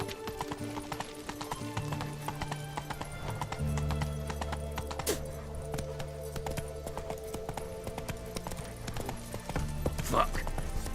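A horse gallops in The Witcher 3 video game, rapid rhythmic hoofbeats running throughout, with a neigh near the end, over game music and a speaking voice.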